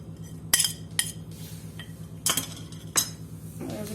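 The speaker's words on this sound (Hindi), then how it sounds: "और अब इसको अच्छी तरह मिक्स कर लेंगे।" A spoon mixes mashed boiled potatoes with spices, coriander and green chillies in a bowl, sounding as a few sharp clinks and taps spread over a low background hum, with no talking.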